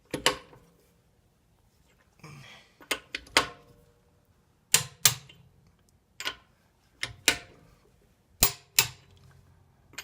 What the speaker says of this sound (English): I make it a little tighter until it clicks on the torque wrench